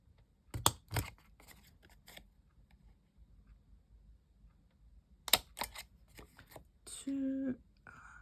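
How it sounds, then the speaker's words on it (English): An ordinary handheld paper punch pressing through paper in a quiet room, with a few sharp clicks and crunches near the start and another cluster a few seconds later. A short rustle of paper follows. "So just an ordinary paper punch."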